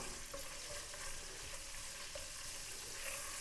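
Crushed garlic frying in ghee or oil in a kadai, producing a continuous soft sizzle with faint stirring scrapes, fairly quiet and close, with no voices.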